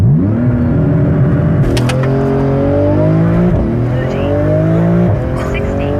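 A wingless Porsche GT2RS launches under launch control, its engine note climbing through rising gear sweeps with brief dips at each shift, loud and close, with voices underneath.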